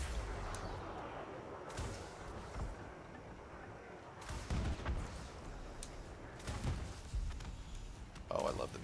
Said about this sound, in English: Oh, I love the missile launcher.